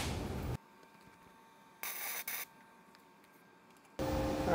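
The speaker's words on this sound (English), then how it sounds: "We're gonna count to 1/1000 when we do our tack welds." Gasless flux core MIG tack welds on tube steel thicker than 1/8 inch, heard as three short bursts of harsh crackling arc noise separated by quiet gaps, close and fairly loud with no talking.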